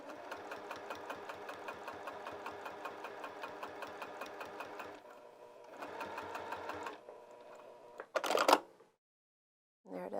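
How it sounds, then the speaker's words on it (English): A sewing machine stitches a pocket onto lounge pants in rapid rhythmic bursts, running about five seconds, pausing, then running again in a shorter burst before a sharp clatter and silence. "And now I'm just going to sew on the back here so that that is down"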